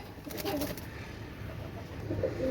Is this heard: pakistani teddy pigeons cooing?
yes